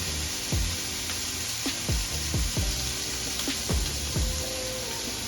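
Ground turkey browning in a hot pan, a steady frying sizzle with intermittent scrapes and clinks of a utensil stirring the meat, close and continuous.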